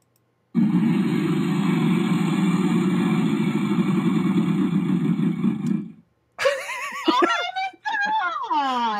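A prize wheel spinning in a Wheel of Fortune style game, a steady rapid clatter of ticks lasting several seconds before it halts, then people exclaim and laugh.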